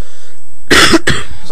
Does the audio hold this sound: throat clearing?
yes